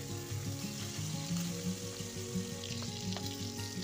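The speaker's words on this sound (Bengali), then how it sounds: "বাকি যে মাছগুলো রয়েছে সেগুলোও কিন্তু আমি পরপর এভাবে ভেজে নেব" Small tangra fish frying in oil in a pan, a loud continuous sizzle and crackle with occasional faint clicks of a utensil, close by and without talking.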